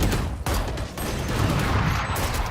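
Gunfire in the tactical shooter Valorant, a dense, continuous burst of rapid shots sustained across the whole moment at steady loudness with no pauses.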